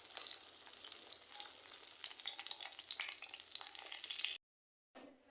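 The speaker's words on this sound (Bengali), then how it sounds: "তো এখন আমি 2টা ডিম ভেজে নিব।" Two eggs fry in hot oil with a steady, faint crackling sizzle and light stirring, alone with no talk, then a brief silence before the sizzle returns.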